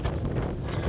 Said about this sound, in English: as you can tell, it's windy as hell